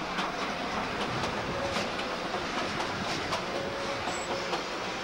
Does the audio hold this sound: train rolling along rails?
yes